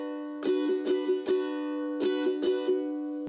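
A ukulele strums chords from a song in a down-down-up pattern. The strokes are bright and close, each chord rings out between them, and no one speaks.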